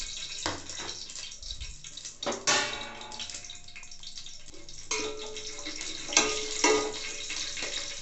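Whole spices such as cinnamon, cloves, cardamom and bay leaf sizzle in ghee for mushroom biryani, a quiet crackling fry broken by intermittent clatters and stirring scrapes from the pan.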